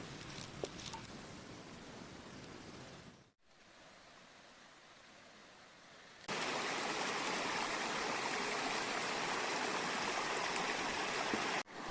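Mountain stream water rushes steadily, quieter at first, then a brief pause before a much louder, close, broadband splash and flow as the vehicle moves through a ford.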